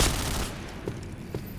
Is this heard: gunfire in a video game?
yes